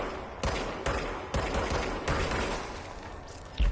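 Gunfire in the video game Control: repeated loud, close bursts of shots in an irregular rhythm, several sharp blasts over a sustained rattling background.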